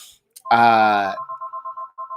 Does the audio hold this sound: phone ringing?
yes